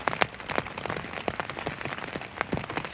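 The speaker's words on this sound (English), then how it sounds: "It's just windy and rainy." Wind and rain beating on a tent at night, with irregular sharp taps and gusty rustling close by, no talking.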